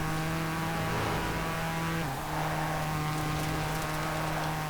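A Vuhl road car in Forza Horizon 4 drives through the city with a sustained engine drone that dips briefly as it shifts, then carries on steadily with road and rain-like noise underneath.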